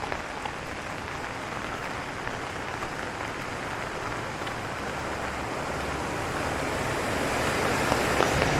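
Water rushes steadily through a canal in a Prague park, a dense continuous roar of broadband hiss that swells slightly louder toward the end, with no voices over it.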